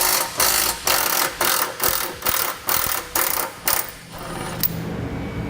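A socket ratchet with an 18mm socket loosening a frame rail bolt during a trailer hitch installation on a 2007 vehicle, giving about ten quick rhythmic bursts of close metallic clicking, then a brief pause.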